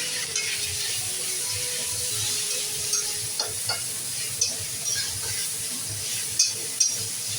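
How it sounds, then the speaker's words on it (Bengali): Chicken pieces sizzle steadily in hot oil for mixed chow mein, with a soft continuous fry and occasional scrapes and clicks of a spatula stirring the pan. "এই তেলের মধ্যেই আমি চিকেনটা দিয়ে দেবো। চিকেনটাও একটু ভাজা ভাজা করে দিই।"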